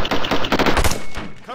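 Rapid machine gun bursts in the America's Army team deathmatch video game, a loud, close, rattling series of shots that tails off briefly near the end.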